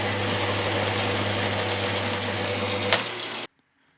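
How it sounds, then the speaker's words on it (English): A small Chinese hobby lathe turns mild steel with a carbide tool, making a continuous grinding, chattering cut with a low motor hum, then stopping abruptly near the end. "It is a small Chinese hobby lathe."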